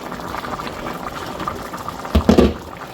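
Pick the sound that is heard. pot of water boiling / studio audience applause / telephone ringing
pot of water boiling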